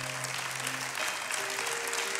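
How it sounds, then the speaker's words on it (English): A church congregation claps their hands together in dense, steady applause that fills the whole short moment, with sustained musical tones held underneath. "Give the Lord a hand clap."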